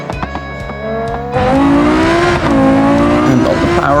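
The Gavril GD808 car in the BeamNG driving game accelerates hard: after a quieter rumble, a loud, harmonic engine roar climbs in pitch through gear changes, with a faint voice underneath.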